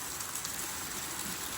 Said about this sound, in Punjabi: ਬਹੁਤ ਤੇਜ਼ ਮੀਂਹ ਹੋ ਗਿਆ ਹੁਣ ਦੁਆਰੇ